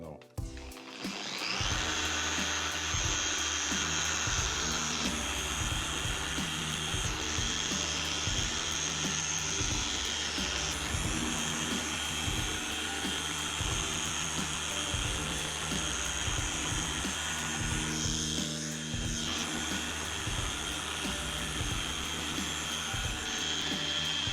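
A car polishing machine runs at higher speed, a loud, steady high-pitched whine that holds for the whole stretch with slight shifts in tone as it works the paint surface.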